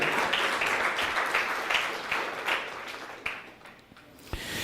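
A church congregation claps in praise, a moderately loud burst of many hands with rhythmic surges that thins out toward the end, leaving a few scattered claps and a sharp final clap.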